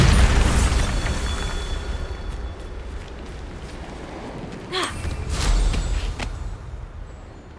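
A Bombarda blasting spell goes off in Hogwarts Legacy as a loud boom with a rumbling tail. A second burst follows partway through, then the sound fades out.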